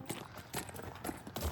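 A horse's hooves clip-clopping in a steady walking rhythm, several distinct soft thuds in quick succession, fairly faint and close by.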